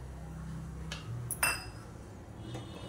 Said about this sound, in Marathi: या आपण घालून ढवळून घेऊया दूध